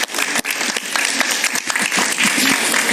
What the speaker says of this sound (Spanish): Sí, un aplauso para Rosa Townsend.